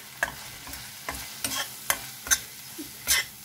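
Turmeric, red chili, cumin and coriander powders are stirred into oil in a pan over a low flame, a soft sizzle punctuated by about seven distinct spatula scrapes, close and alone.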